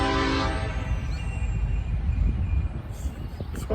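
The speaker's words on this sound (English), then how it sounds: "Nothing like the trains here in Victoria." A train rumbles past nearby in Victoria, Texas, a steady low roar with a sustained horn-like tone at the start, running continuously for a few seconds.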